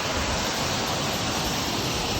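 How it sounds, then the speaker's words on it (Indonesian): Rushing water pours steadily at Sadap waterfall, a dense, loud, unbroken roar close by with no voices. "Kita sudah berada di air terjun Sadap."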